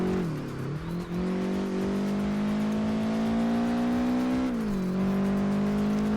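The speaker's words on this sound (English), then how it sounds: "We'll even do an entire lap of drifting if we have to win this championship." Racing cars drift in Project Gotham Racing 4, a loud sustained engine drone that dips and rises as revs shift through the corners, with faint tire squeal and no voices.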